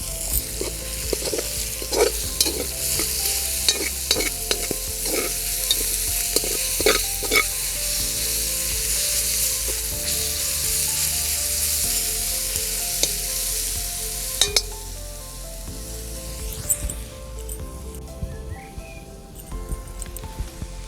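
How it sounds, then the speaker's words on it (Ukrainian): Borscht ingredients sizzle and crackle steadily in a cauldron over an open fire while a utensil scrapes and stirs through them in repeated strokes, then the stirring stops and the sizzle continues. "Не забуваємо періодично все помішувати."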